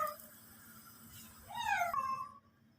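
A pet cat meows in a home kitchen, one rising and falling cry clearly heard over a low steady background hum, with no talking.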